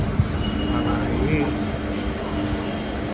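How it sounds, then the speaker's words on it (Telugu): A passenger train on the Tiruvannamalai to Tirupati run pulls into Tirupati station, its wheels squealing loudly and steadily against a constant rumble of rail noise. "సో ఫైనల్ అయితే మన ట్రైన్ అయితే తిరుపతికి అయితే వచ్చేసింది"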